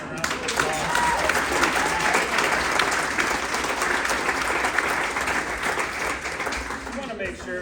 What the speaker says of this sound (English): So let's give all 10 a round of applause.